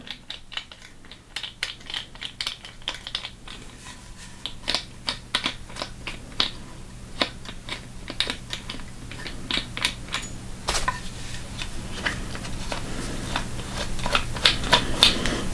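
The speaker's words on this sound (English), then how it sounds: "We'll stick the limbs on it here and see how it looks." Limbs go onto a takedown recurve bow from Amazon with standard 5/16-18 thumb-type limb bolts, a close run of small sharp clicks and taps over a low steady hum, growing busier toward the end, no talking.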